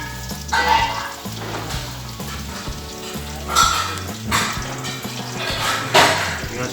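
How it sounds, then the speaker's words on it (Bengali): Chopped onion frying in hot oil for chicken biryani, a broad sizzle that swells in bursts as it is stirred, with other tonal background noise mixed in and no speech. "তেল গরম হয়ে গেছে, এর মধ্যে আমি একটু কুচি পেঁয়াজ দিলাম।"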